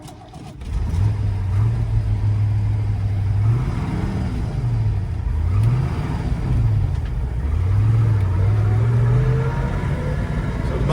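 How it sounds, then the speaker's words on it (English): A 1970 Ford Mustang Boss 429 on a drive, its big V8 rumbling loud and close as it revs up and down in several rising and falling sweeps over steady road noise. "So we're going to take this one for a little drive, show you guys just how well this one runs."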